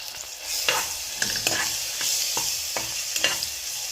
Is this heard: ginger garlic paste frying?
yes